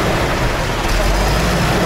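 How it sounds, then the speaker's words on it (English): Delhi street traffic with buses, a dense, close roadway rumble and engine drone filling the whole short stretch without a break. "Look at all these buses."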